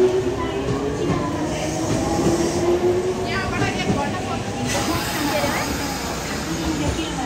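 Train rumbling along the rails while running between stations on a snowy trip to Mt. Kongo, a steady loud rolling roar with faint clicks, voices talking over it throughout.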